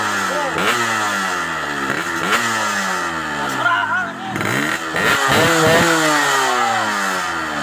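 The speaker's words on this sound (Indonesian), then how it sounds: "eta motor gandeng" A motorcycle engine revs loud and close in repeated rising and falling surges, with a brief dip midway before it climbs again, and people talk over it.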